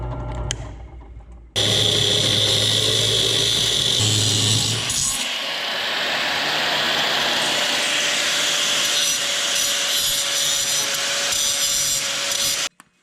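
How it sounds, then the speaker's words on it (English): A small toy drill press bores into a tractor steering cylinder part, starting with a loud, steady grinding whine that runs continuously for about ten seconds, the pitch shifting slightly as the bit cuts, then cutting off abruptly. "this is a toy drill press."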